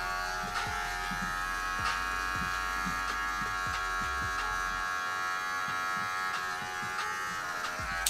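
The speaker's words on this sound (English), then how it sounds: "we're just gonna go straight in with our three guard" Electric hair clippers fitted with a three guard cut hair during a home fade, a steady close buzz running throughout with small rhythmic ticks as the blade passes.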